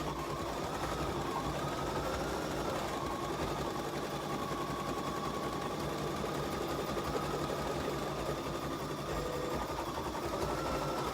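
Home embroidery machine running the first cutting stitch pass of a number design, a fast steady mechanical stitching whir with a rhythmic needle patter, fairly quiet and uninterrupted, no one speaking.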